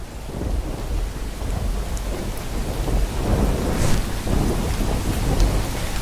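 Heavy rain pours steadily with low thunder rumbling throughout during a storm in Sabarkantha district, Gujarat, a loud continuous wash with no voices.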